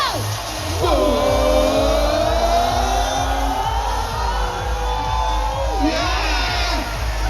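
Large outdoor crowd at a Singapore Independence Day parachute jump display cheering and screaming continuously, with high shrieks and whoops rising and falling over a loud, sustained roar.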